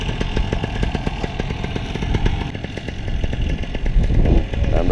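A paramotor engine drones steadily and fairly close during powered paragliding flight training, its buzzing pitch rising slightly near the end as the throttle opens, with no talk over it.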